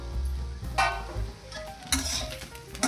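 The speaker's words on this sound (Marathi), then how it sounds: "टोमॅटो, थोडंसं भाजून घेऊ।" Tomatoes and garlic dry-roasting in a pan for a prawn masala: a soft, steady sizzle with occasional scraping and stirring clinks, fairly quiet and close, no voices.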